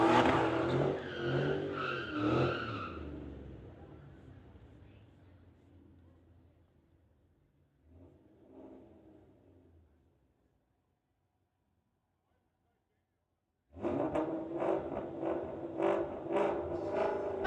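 Cars launch at a drag strip during a street legal racing event, a loud roaring engine pass that fades away into near silence, then another powerful engine roar bursts in close and sustained.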